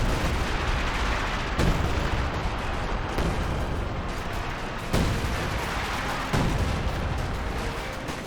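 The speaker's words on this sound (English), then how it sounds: "He is introduced to some improved major artillery." Artillery fire in the Company of Heroes 2 strategy game, a dense continuous barrage of booming blasts with a few sharper, louder impacts standing out roughly every one and a half seconds, no talk.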